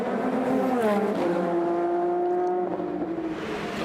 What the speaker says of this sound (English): Acuras together going down the backside of the circuit into turn number 9